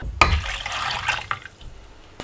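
Chicken broth poured into a pot to top it up, a short liquid splash and trickle after a sharp clink, fading within a couple of seconds, with no talk.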